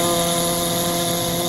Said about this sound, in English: And then screw it back down. With my power screwdriver.